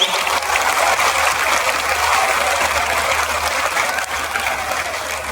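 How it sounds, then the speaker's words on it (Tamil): Applause from a crowd at a public event honouring India's Prime Minister, a steady, dense wash of clapping that stays loud and even throughout without a break. "பலத்த கரகோஷத்துடன் நம் மகிழ்ச்சியை தெரிவித்துக் கொள்வோம்"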